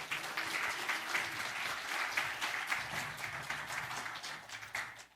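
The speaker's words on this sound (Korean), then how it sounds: "우리 박수로 맞이하겠습니다." A church congregation at a first-anniversary thanksgiving service claps to welcome the pastor, steady mid-level applause that continues for about five seconds before fading.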